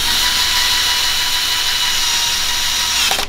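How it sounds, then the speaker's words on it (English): A power drill whirring loudly and steadily for about three seconds as it drives a screw through PVC vent pipe, then winding down abruptly as it stops. "drill one screw through the PVC"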